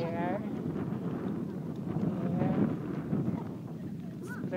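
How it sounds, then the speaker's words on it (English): Wind blows through a forest in Urbiztondo, Pangasinan, buffeting the microphone with a steady rushing roar while a person talks over it. "It's windy here."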